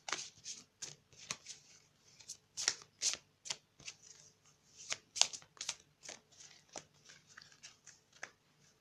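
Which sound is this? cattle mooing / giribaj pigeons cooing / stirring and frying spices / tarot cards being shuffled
tarot cards being shuffled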